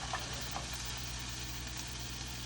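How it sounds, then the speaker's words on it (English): Food sizzles steadily while frying in oil, a dense crackling hiss with small pops, close and continuous. "oh Lord, it's sizzling"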